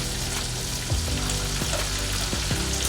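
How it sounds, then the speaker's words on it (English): A steak sears in a hot pan while garlic and rosemary butter is spooned over it, giving a steady close sizzle with a few soft scrapes and splatters, and no talking. "just baste this steak with those butter, just like that"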